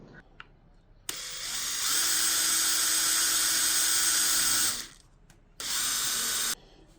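A power grinder cuts down metal screws to shorten them in a home workshop, two bursts of steady high-pitched whine, a long one then a shorter one, loud and close with quiet pauses between.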